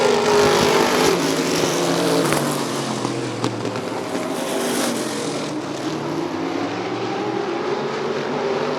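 Race cars roar past in a bracket race at Rockford Speedway, a loud sustained engine drone that swells and fades as the pack goes by, with no voice over it.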